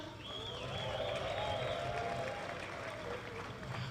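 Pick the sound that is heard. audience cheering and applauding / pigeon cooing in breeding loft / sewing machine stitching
audience cheering and applauding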